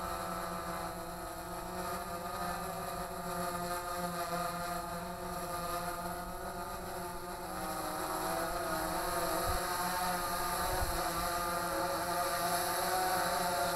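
A DJI Phantom 3 Pro drone hovering and flying during a vision positioning test, a steady high-pitched multi-toned propeller whine held close and loud, its pitch shifting slightly, with no talking.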